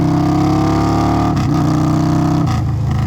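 A car engine held at steady revs, then briefly dropping and catching again twice as the driver makes clutchless gear shifts while slowing and accelerating; loud, close, with no talk.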